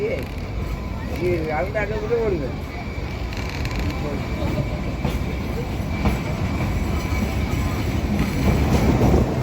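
The Kalka–Shimla toy train rolls along with a continuous low rumble and rattle of the carriages, while a voice talks over it near the start.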